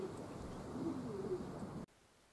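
Low, soft cooing of a grey male racing pigeon on a loft shelf repeats against steady outdoor background noise on a clear autumn morning with light wind, then cuts off abruptly near the end.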